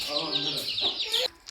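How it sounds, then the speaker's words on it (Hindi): A brooding hen sits on her eggs in a village and clucks in a close, grumbling run of calls, then gives a sharper rising call near the end. "मुर्गी बैठी है"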